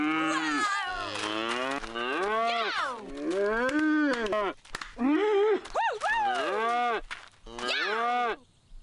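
A cow in Black & White moos loudly and repeatedly in long, wavering, drawn-out calls with short gaps between them, close and clear.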